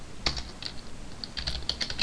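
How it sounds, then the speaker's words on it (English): Rapid clacking of keys on a computer keyboard while writing Java code, a steady run of close, crisp taps with brief pauses, no voices over it. "Let me type it right."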